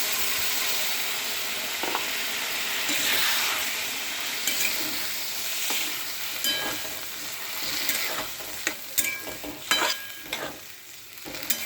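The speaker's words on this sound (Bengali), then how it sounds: "এবারে আমি সেদ্ধ করে রাখা ছোলা আলুটা দিয়ে দেবো।" Boiled chickpeas and potato are stirred into spices frying in oil, with a constant hiss and sizzle. Sharp scraping knocks from the spoon grow more frequent toward the end, and no one speaks.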